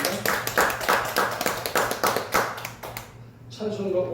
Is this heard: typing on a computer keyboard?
no